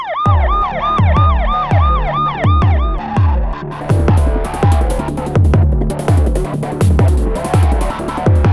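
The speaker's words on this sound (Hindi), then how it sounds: "एम्बुलेंस" An ambulance siren wails loud and close, a repeating rising-and-falling electronic tone over a rhythmic pulsing horn pattern that continues steadily throughout.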